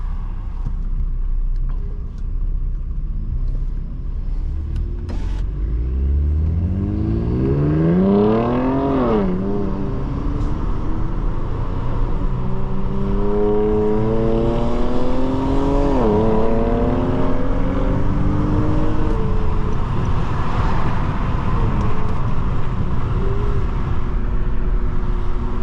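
A 2004 Nissan Maxima 3.5 SE accelerating on the road, with loud, steady engine drone whose pitch climbs repeatedly through successive gear pulls before settling into a cruise, with no talking.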